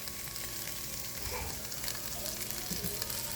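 Tomatoes, sweet peppers and bok choy sauté in a pan for Guyanese chowmein, a faint, steady sizzle with occasional soft stirring sounds and no talk.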